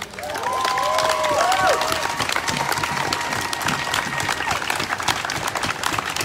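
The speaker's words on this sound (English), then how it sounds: "Give me a round of applause for that." Crowd at a live grassroots activist rally in Portland breaks into sustained applause and cheering, with whistles and shouts rising above steady clapping for several seconds.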